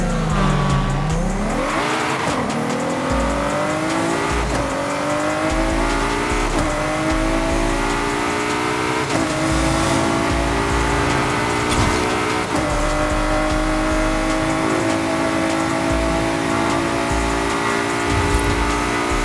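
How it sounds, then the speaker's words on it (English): A loud, close GT race car engine revs hard and climbs through repeated upshifts, with each gear's pitch sweeping upward and brief tire squeal along the way. "It sounds like a GT car."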